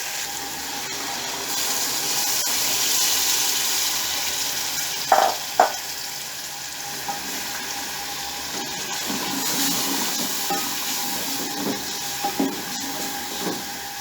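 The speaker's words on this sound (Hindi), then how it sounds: "अब इस स्टेज पर मैंने जो स्टॉक बनाया है, यखनी बनाई है, वो मैं इसमें ऐड करने लगा हूँ।" Yakhni stock poured into hot separated oil for degi mutton korma, a steady broad sizzle and bubbling with a couple of sharp splashes near the start of the pour, continuing evenly without speech.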